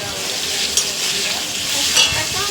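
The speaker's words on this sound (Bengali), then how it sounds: "আলুটা সুন্দর করে ভাজা হচ্ছে" Potatoes with turmeric frying in a pan make a loud, close, continuous sizzle, with a couple of brief clinks and scrapes as they are stirred.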